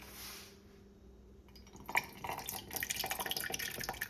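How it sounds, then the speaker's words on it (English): Liquid poured into a large pot of Jamaican rice and peas, a quiet splashing, trickling pour that starts after a near-silent pause and runs steadily to the end. "I go pour some liquid in this"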